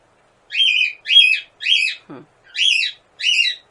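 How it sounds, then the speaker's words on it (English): Small birds chirp outdoors in five clear, evenly spaced bright calls over about three seconds, with one lower, brief squawk in the middle; no talking. "Everywhere we go, there seems to be birds."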